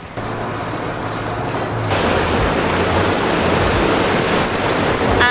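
A cruise boat on the Beagle Channel near Ushuaia pushes through the water, its engine droning low beneath a broad, steady wash of wind and rushing waves that grows louder partway through.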